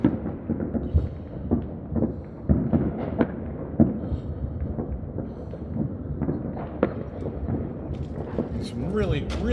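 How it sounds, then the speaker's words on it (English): New Year fireworks burst repeatedly over a wide area, with irregular booms and crackles, some near and some distant, under ongoing talk. "And then we have a lot of local fireworks here."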